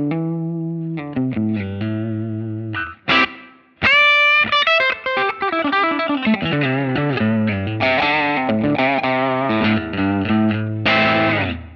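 An electric guitar played through a Line 6 Helix Ventoux amp model rings out with distorted chords and single-note runs, loud and close, with brief pauses between phrases.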